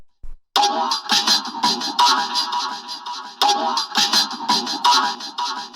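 A pitched-up drum break loops with busy, crunchy hits in a quick, syncopated rhythm, bright and processed, in a trip hop track, with no talking over it.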